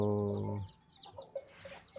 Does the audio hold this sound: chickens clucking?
yes